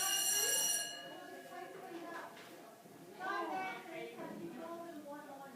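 A school-type bell or buzzer rings loudly for about a second in a painting class, where colours are being mixed for a colour wheel, then cuts off as a person keeps talking over the room.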